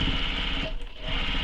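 A sewing machine runs steadily, stitching along earlier basting lines through a foam-lined tote bag panel with a continuous close motor whir and needle chatter, briefly dipping mid-run before resuming.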